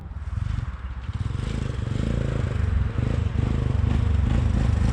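Engine of a 1985 Yamaha YTM 200e three-wheeler idling low and steady, a loud close rumble with a rapid, slightly uneven pulse throughout.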